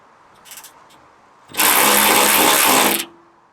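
A Ryobi 4V cordless 1/4-inch ratchet wrench undoes a bolt. A loud, even motor whir runs alone for about a second and a half, after a few faint clicks of handling.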